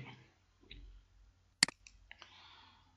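A single sharp computer mouse click on the OK button in ArcGIS, crisp and close in an otherwise quiet room, followed by a couple of softer clicks and faint background rustle.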